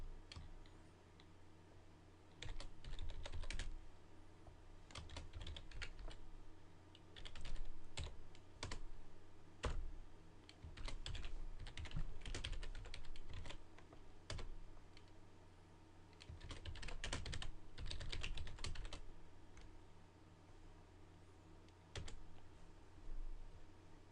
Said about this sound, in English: Now I'm going to type a little bit more to help explain understanding non-printing characters.